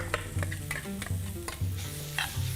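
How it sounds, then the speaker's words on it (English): Rice with grated mango stirred in a pan over a low flame, giving soft repeated scraping strokes against a steady faint sizzle, close and moderately loud with no voices. "And I put it on still low flame, and I mix it up."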